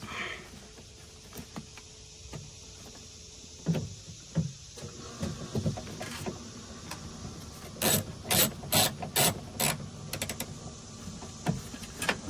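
Ratchet wrench tightening a bolt on the front passenger exterior door handle of a 2013 Chevrolet Silverado 1500, a few scattered clicks building into bursts of rapid close ratcheting, with faint mechanical handling between.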